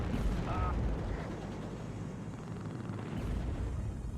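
Artillery fire pounding a command vehicle in the Cold War strategy game WARNO: dense, rumbling blasts and crackling explosions roll on continuously, loud and heavy, with a voice faintly present underneath.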